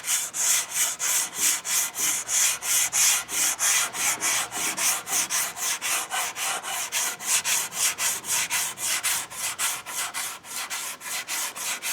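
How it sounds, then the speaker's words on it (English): Steady rhythmic scraping of a sanding block rubbed back and forth over a hard Oldsmobile Cutlass car panel, close and loud, continuous strokes with no talking. "you just got to keep moving until the sanding block changes the color"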